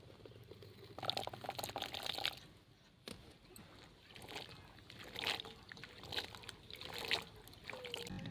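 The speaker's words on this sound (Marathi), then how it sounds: "तर स्वच्छ पाण्याने आपण धुवून घेऊया." Indian gooseberries (amla) being washed in clean water, with intermittent splashing, sloshing and trickling, quiet and close, with brief pauses between rinses.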